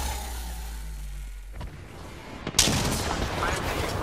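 Gunfire erupts in the video game Apex Legends: a low vehicle-like drone gives way to a couple of sharp cracks, then a loud burst of shots and noisy rattling closes out the moment.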